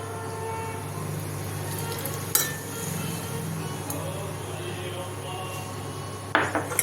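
A utensil stirs poppy seed paste with a little water and sugar in a bowl, giving soft scraping and occasional sharp clinks against the bowl under a steady background hum, with no talking.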